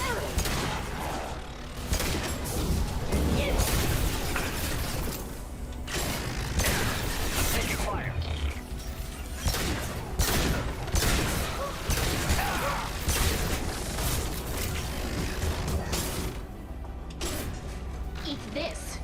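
Mass Effect 2 combat fills the scene with dense, rapid gunfire and mechanical clatter, loud and continuous, while voices talk over the shooting.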